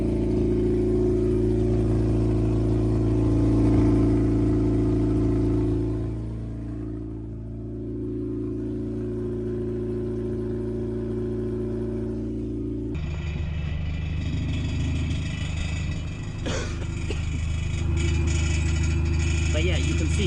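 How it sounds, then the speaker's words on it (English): A Honda Civic EF idles and revs with its exhaust hanging off and leaking on all sides, giving a steady, rough, droning rumble with a pitch shift partway through, while someone talks over it. "you can see the exhaust is hanging off, and it's basically blowing on all 4 sides"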